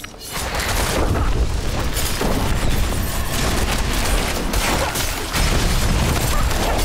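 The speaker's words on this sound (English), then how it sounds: "I love those fucking cluster bombs" Cluster bombs in the Diablo IV video game set off a dense, continuous barrage of booming blasts and crackling impacts, loud and unbroken for several seconds.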